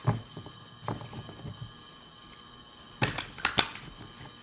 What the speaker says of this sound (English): Give them a good ruffle shuffle.